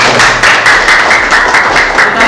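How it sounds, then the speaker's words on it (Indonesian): A class audience at a quiz claps for a correct answer, giving loud, close and fairly dense applause with rapid overlapping hand claps throughout. "tepuk tangan sekali lagi."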